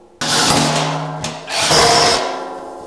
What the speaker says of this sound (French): Perce un trou de 10.